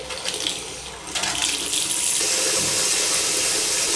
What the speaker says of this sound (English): Let's take a look at what we see coming out when the hot water comes on.